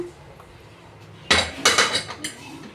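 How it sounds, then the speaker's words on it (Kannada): The whistle comes off a pressure cooker holding coconut milk rice bath, and the lid opens with a sudden loud metallic clatter and a few rattling clinks close by. "ವಿಸಿಲ್ ತೆಗೆದ್ಬಿಟ್ಟು ಕುಕ್ಕರ್ ಓಪನ್ ಮಾಡೋಣ"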